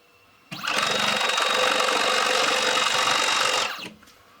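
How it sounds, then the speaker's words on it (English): A drill on a wooden 3D mill spins up suddenly and runs at a steady, loud whine for about three seconds, then winds down, close by with no speech. "And now we're going to turn the drill on."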